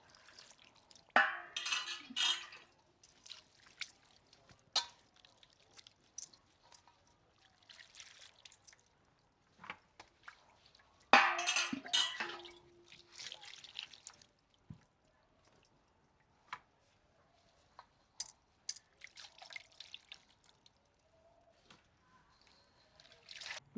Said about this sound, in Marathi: हे मुळे असे स्वच्छ धुवून घ्यायचे चोळून चांगले